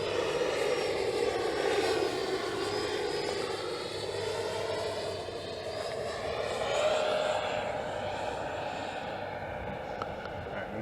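An Xfly T-7A EDF radio-controlled jet flies at slow speed, its ducted fan giving a steady whine that rises and falls gently as it passes, heard from a distance over faint outdoor wind.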